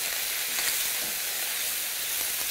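Mushrooms browning in a pan while salmon cooks, giving a steady, close frying sizzle with a dense hiss that holds even and unbroken, with no talk over it.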